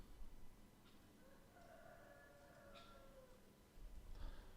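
Cockerels crowing far off, faint drawn-out calls rising over a quiet outdoor background, with a couple of separate crows across a few seconds.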